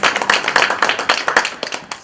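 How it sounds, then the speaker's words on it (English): A small lecture audience in Chicago giving a quick round of applause, with close, crisp, uneven hand claps heard briefly. "Let's give them a round of applause."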